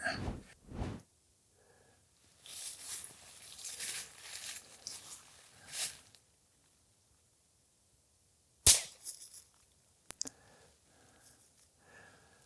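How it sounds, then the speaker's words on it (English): Muzzleloader rifle at an outdoor range giving a hang fire and then a misfire: after quiet handling noises, one sharp loud report, followed a moment later by faint metallic clicks. "That is a hang fire and now a non-fire."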